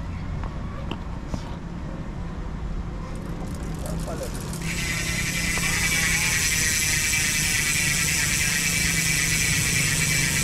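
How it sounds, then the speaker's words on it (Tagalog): Maxxone Stroke 1.0 MTB rear hub freewheeling on a 26-inch MTB, giving a fast, steady buzzing click that starts partway through and keeps going, close up. Someone talks quietly over the wheel's rumble. "Yan, MTB hubs kapag naka free wheel."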